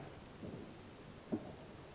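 Rain falls steadily in Pasni, Gwadar, a soft continuous hiss with low rumbles of distant thunder rising briefly twice, no voices, ending abruptly.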